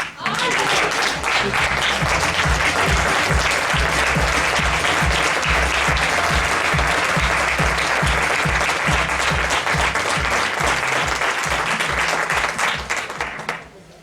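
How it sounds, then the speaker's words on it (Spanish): Enthusiastic crowd applause for Mariano Rajoy at a Partido Popular rally in Castillo de Locubín, loud sustained clapping with a rhythmic low thumping beneath, fading out at the very end. "le deis un aplauso a un señor caballero como es Mariano Rajoy"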